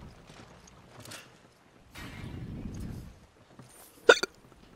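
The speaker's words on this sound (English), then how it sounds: "my hiccups are bad right now" Hiccups during Resident Evil 5 gameplay: soft sounds at the start, a stretch of low game rumble, then one sharp loud hiccup near the end.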